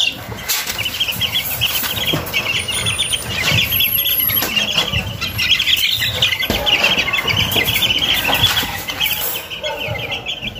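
Young Allen roundhead and Gilmore gamefowl chicks in a backyard, a dense steady chorus of high peeping and cheeping with some flutter and rustle, continuous and close, no talk.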